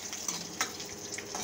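Tempering sizzling in a pan of spices and green chilli, a continuous crackling fry with light stirring scrapes and a few small clinks, close and without talk.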